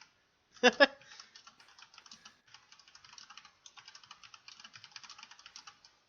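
Quick, uneven keystrokes on a computer keyboard during a live-streamed podcast, opening with a couple of louder clacks and then a steady patter of light taps, fairly close and without talk over it.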